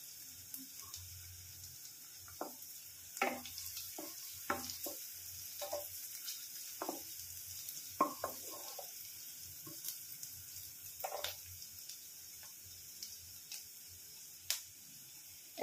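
Onions frying in mustard oil, a quiet steady sizzle broken by scattered crackles and pops, with occasional utensil scrapes and no voices.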